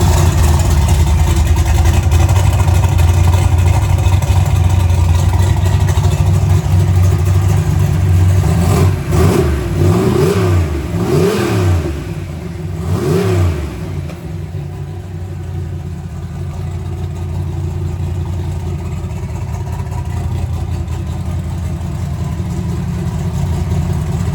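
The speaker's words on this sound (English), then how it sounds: "The engine's pretty much the way I want it. Turbo's all set up. It's running just a tiny bit rich," A turbocharged 1986 Ford Mustang engine, running slightly rich, idles with a steady rumble and then revs up several times in quick blips before settling back to idle, heard up close and fairly loud.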